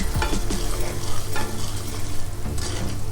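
Semolina frying in ghee in a hot pan on low-to-medium flame, stirred continuously: a loud, close, crackling sizzle with repeated scraping strokes of a spoon across the pan, no voices.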